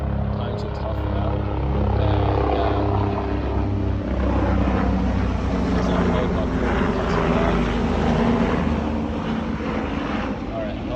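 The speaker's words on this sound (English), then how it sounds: "a helicopter just passed by, in case you can hear me speaking" A helicopter passes overhead, its steady low rotor drone rising and lingering loud through the whole stretch, with a person talking over it.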